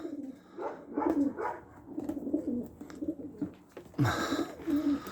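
Opal pigeons coo in soft, repeated throaty rolls, close by, with a brief flutter and a sharper call near the end.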